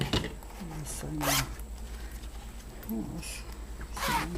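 Zipper on a small green fabric bag being sewn, heard as several short raspy zips in bursts, with quiet handling and faint voice sounds between them.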